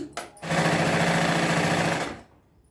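Sewing machine stitching three cloth pieces of a baby boy's dhoti together, pins pulled out as it goes; after a couple of short clicks it runs in one loud, fast, steady burst of rapid needle strokes for about two seconds, then stops.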